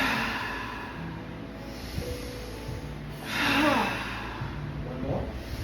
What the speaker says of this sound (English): 3 exaggerated breaths